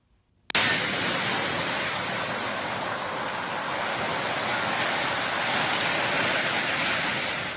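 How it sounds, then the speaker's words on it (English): Flash-flood water roars through Havasu Creek in the Grand Canyon, with rain adding to a loud, steady, unbroken rush that starts abruptly and holds at full strength without any voices. "Look at all of that rain tonight"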